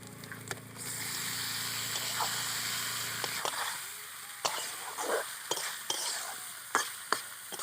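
Duck meat sizzles and fries in a pan, cooked village style with spices and lemon leaves. A steady close sizzle fills the first few seconds, then scattered scrapes and clinks of stirring break through a quieter frying hiss.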